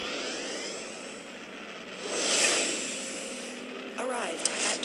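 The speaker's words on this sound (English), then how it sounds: "Starting warp engine." Spaceship warp engine in the space game Second Galaxy: a low, airy whoosh that swells midway, then shifts into a rising electronic whine near the end.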